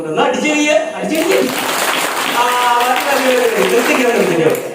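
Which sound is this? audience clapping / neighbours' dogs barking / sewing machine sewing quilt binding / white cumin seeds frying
audience clapping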